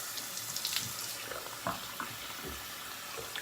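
Tap water runs faintly while something is rinsed under it, a soft, uneven splashing that continues over a few seconds with no voices.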